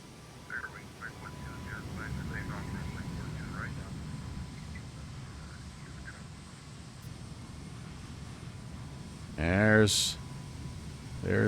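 Toliss A321 airliner engines in the X-Plane flight simulator, cruising at night near JFK in New York: a steady broadband drone with faint chirps over it, and a brief voice near the end.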